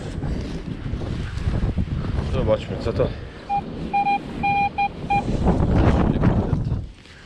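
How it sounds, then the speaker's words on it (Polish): Strong wind buffets the microphone with a loud, steady roar while someone speaks briefly and short electronic metal detector beeps sound during a dig. "kurczę jaki wiatr"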